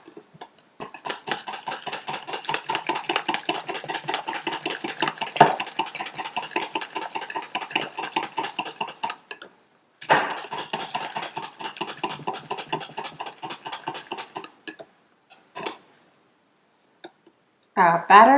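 Crêpe batter with lemon juice gets mixed in a bowl: fast, rhythmic whisk or spoon strokes clatter against the bowl for long stretches, broken by a couple of brief pauses.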